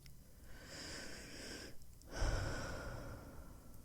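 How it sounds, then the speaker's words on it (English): A slow deep breath taken during a calm reflective moment, audible as a soft breathy inhale, a short hush, then a fuller exhale, close and gentle with no speech. "let yourself take a deep breath"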